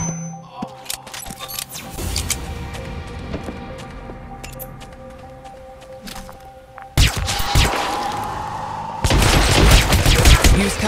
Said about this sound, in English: Use cover to protect yourself from enemy fire or try to slip away and hide.